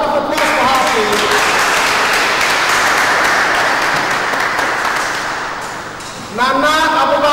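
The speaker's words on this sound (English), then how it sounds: "Patricia Dike, another applause for her, please." Steady, loud applause from a large audience runs for several seconds, with someone talking at the beginning and picking up again as the clapping dies down.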